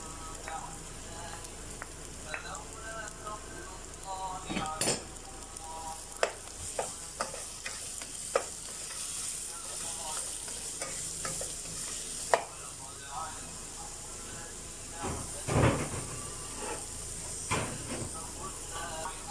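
Onion, garlic, pepper and carrots fry in a pan with a steady sizzle and hiss, punctuated by frequent scraping and clattering stirs, close and fairly loud throughout.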